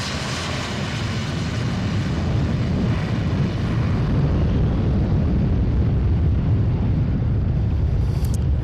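Blue Angels jets take off at Boeing Field, a loud, dense engine roar that swells and holds close by, with no talk.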